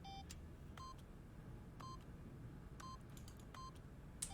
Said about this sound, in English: Stanley simply began entering random codes into the keypad